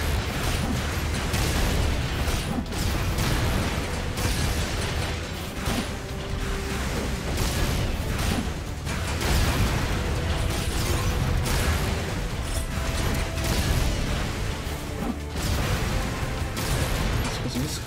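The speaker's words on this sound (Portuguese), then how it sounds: "Escapar desses tiros é muito complicado" Gunfire in the mecha video game Hardcore Mecha keeps up a dense barrage of shots, pops and blasts with no letup.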